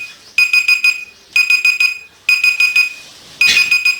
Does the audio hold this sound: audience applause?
no